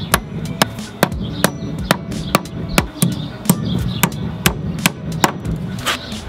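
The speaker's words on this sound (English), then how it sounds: "So now what I can do is I can nail in the joist here." A hammer drives nails into a tiny house roof joist with sharp, loud, close blows at a fairly regular pace, roughly two or three per second, over faint background noise.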